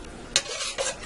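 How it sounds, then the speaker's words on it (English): A teaspoon stirs beef barley soup in a pressure cooker, giving two short clinking scrapes against the pot over a soft bubbling background, close and brief with no voices. "I'm going to stir this in good, and I'm going to give this a taste test."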